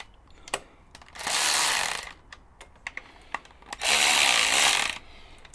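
A power ratchet snugs down bolts during a valve adjustment on a Honda Hornet CB600 motorbike, with two loud, roughly one-second bursts of whirring, separated and surrounded by sharp metallic clicks and taps.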